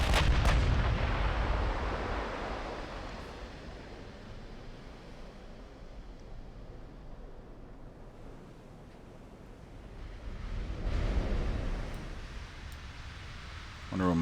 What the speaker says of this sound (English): we're just going to be firing with the forward guns for now